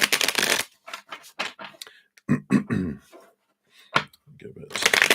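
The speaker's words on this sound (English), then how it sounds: "So let's give these all a shuffle." A craft tarot card deck being shuffled, with crisp riffling bursts at the start and again near the end, separated by softer card handling and brief quiet gaps.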